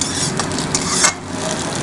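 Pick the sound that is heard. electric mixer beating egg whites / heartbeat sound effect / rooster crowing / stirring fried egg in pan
stirring fried egg in pan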